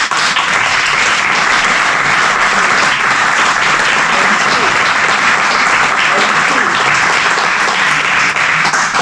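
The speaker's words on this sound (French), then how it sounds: "Et donc je propose qu'on l'applaudisse." A council meeting audience in Rebecq applauds a volunteer who has long coordinated a Télévie fundraising operation in the commune, with steady, dense clapping sustained throughout at close range.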